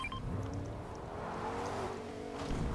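A car drives close by in a multiplayer shooter video game, its engine a soft, steady hum heard faintly and alone for a few seconds.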